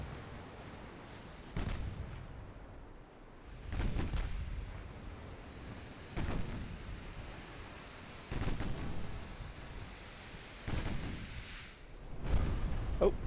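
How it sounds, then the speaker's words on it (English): Deep booming blasts of naval battle in Ultimate Admiral Dreadnought, including a torpedo detonating against a warship: about six heavy explosions at irregular intervals, each a low rumble fading out over a quieter sea-like wash. "Oh, that's a torpedo detonation."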